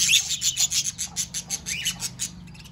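Many caged birds chatter and squawk in a rapid, rasping rhythm of bursts, close and fairly loud, with a low background hum.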